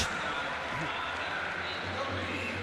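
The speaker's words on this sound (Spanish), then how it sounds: "Aplaudido polo público Jordan Davis" A basketball crowd in an arena applauds as players come onto the court during a tournament semifinal, giving a steady, moderate wash of clapping under a commentator's voice.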